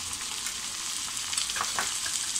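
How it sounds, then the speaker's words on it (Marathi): Onion sautéing in a pan with ginger garlic paste, a steady close frying hiss with a few brief stirring scrapes near the middle. "आपला कांदा छान गुलाबी रंग येईपर्यंत छान परतून झाला आहे."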